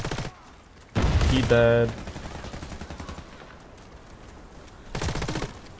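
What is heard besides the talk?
gunfire in the video game Warface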